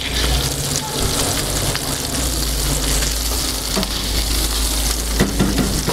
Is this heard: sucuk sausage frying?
yes